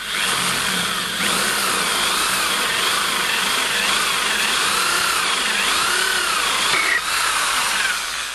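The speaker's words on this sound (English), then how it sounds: "drill your pilot holes for your jigsaw." Loud, continuous whine of a power tool cutting or drilling through wood, sustained and close for the whole stretch with small shifts in pitch.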